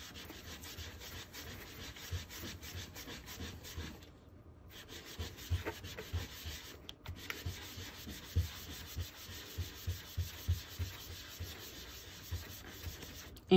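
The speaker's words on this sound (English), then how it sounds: "you just take your baby wipe, and I like to start up in a corner and work my way over and down, but you just go in a circular motion" A baby wipe scrubs a craft cutting mat in circular motions, giving soft rhythmic rubbing strokes close up, with no talking.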